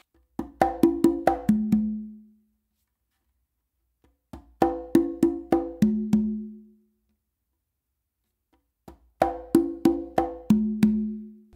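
Conga drums play a tumbao pattern three times, each pass a quick run of crisp slaps and tones ending on a deeper ringing open note, recorded close with silent gaps between phrases.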